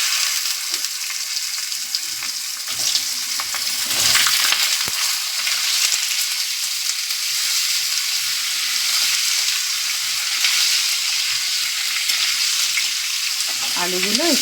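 Potatoes dropped into hot oil seasoned with a pinch of asafoetida, sizzling loudly and continuously with occasional stirring scrapes, close up, a sharp clatter near the end.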